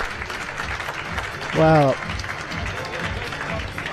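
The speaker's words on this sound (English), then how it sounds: "there's a lot of applause from the floor." Applause from the floor at a powerlifting championship, a European Open event, rises around a lift under a commentator's steady talk, with a brief loud tonal burst partway through.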